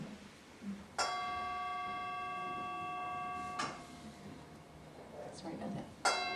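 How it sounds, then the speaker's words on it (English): A gong struck to open a meditation session rings out with a bright, sustained shimmering tone, with a second strike and a third near the end, and soft talk in between. "I'll just get us started with a gong sound."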